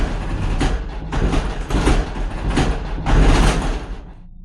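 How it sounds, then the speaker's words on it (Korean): Door being forcefully tried while locked, a series of rattling, clattering bursts as the handle and frame are shaken repeatedly, loud and close. "잠겨있는 문을 열려고 하는 소리가 미친 듯이 들렸어요"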